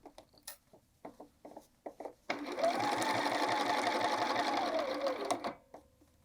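A sewing machine stitches a hood seam on a quilted jacket in one steady, close, continuous run of about three seconds. Light handling taps come before it and a brief stop follows.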